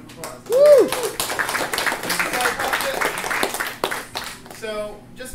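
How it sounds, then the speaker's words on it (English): Scattered applause with a whoop near the start welcomes a speaker at a hacker conference, with claps and crowd noise mixed under a voice that talks over most of it. "Please give him a round of applause."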